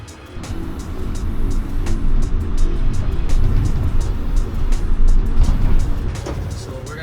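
Chevrolet BrightDrop 400 standard-range front-wheel-drive electric van pulling away, heard from inside the cabin as a loud, steady low rumble of road and motion noise with occasional clicks.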